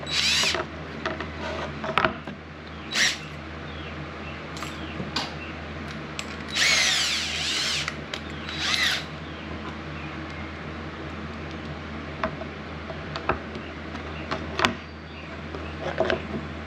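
Cordless power drill driving a screw into a Dodge Ram's interior air intake area during a blower motor repair, short whirring bursts repeated several times over steady background hum.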